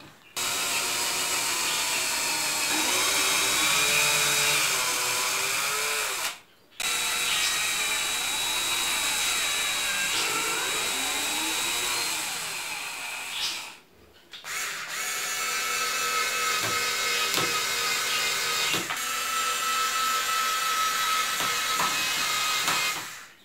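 A power tool mills a wooden robot frame in a workshop, whining loudly and continuously up close with shifting pitch as it bites the wood, stopping briefly twice before starting again.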